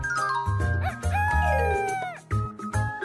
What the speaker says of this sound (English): Mr. Rooster crows to wake everyone up at day.